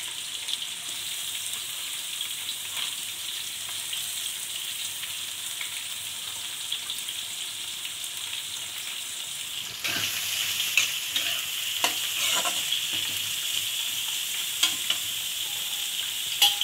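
Chopped onions with curry leaves fry over a high flame for ghee rice, a steady close sizzle that jumps louder partway through as stirring adds scraping clatter, with no talk.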